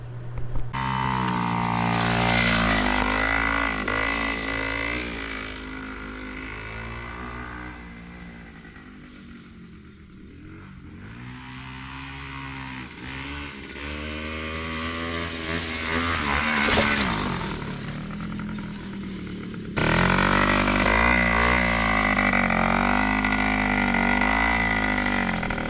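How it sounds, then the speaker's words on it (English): A 1977 Yamaha Chappy scooter's small two-stroke engine runs close by, buzzing with a rising and falling pitch as it is revved repeatedly, loud and raspy throughout. "There you have it, 1977 Yamaha Chappy. It runs, it drives"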